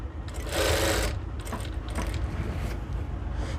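A sewing machine stitches blouse lining in bursts, a loud rapid mechanical whirring run followed by shorter clattering stitches and pauses, close by with no talk.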